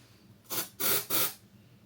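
An antiperspirant deodorant aerosol gives three quick hissing bursts close by, each roughly a third of a second, with quiet pauses between.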